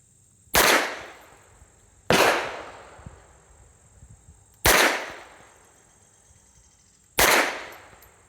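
An unsuppressed .22 rifle fires four sharp, loud shots at even intervals of roughly two and a half seconds, each followed by a short decaying echo, with quiet outdoor background between them.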